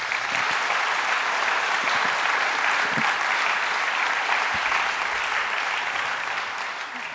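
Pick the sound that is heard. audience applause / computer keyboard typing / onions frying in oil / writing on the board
audience applause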